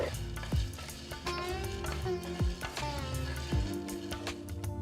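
Garlic cloves and curry leaves fry in hot oil in a pan, a steady close sizzle broken by repeated scraping stirs and clinks of a spoon against the metal.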